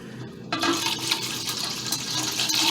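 Turkey leg broth pours into a pot of collard greens, a close splashing, gurgling stream of liquid that starts after a brief pause and continues steadily to the end.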